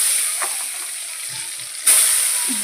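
Sliced potatoes fry in oil in a wok with a steady, bright hiss, broken by a few soft stirring clinks and a sudden surge of sizzling partway through.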